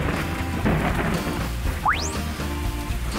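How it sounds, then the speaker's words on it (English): Thunderstorm with rain and thunder: a dense, steady hiss of rain mixed with rumbling, plus a quick rising whistle-like sweep partway through, all at an even level without any talking. "thunderstorm."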